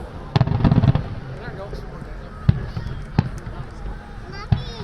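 Fireworks pop and crackle in the distance, with a dense burst early on followed by scattered single bangs, while a crowd murmurs and people talk.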